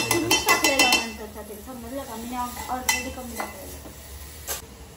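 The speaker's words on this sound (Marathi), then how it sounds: "आता मॅडमनी हे बघा पॅट्या घेतल्यात तलायला" Chicken patties sizzle in oil in a home kitchen pan, with a few sharp clinks of a utensil against the pan at the start and later. Voices talk quietly in the background.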